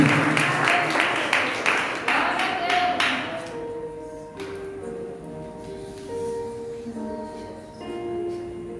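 A church congregation applauds in rhythmic bursts for a few seconds. The clapping then fades into sustained musical tones while voices continue.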